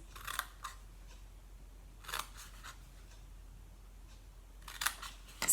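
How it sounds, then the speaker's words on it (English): Scissors snip through a wax melt box along its score line in a few brief, crisp cuts separated by quiet pauses, close and soft. "So now I'm going to cut up just on the score line of each of these"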